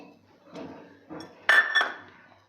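A small steel bowl pressed into rolled puri dough on a board, giving a few short knocks and scraping clinks, then two louder sharp clinks as the cutter presses down; nearby and unaccompanied by talk.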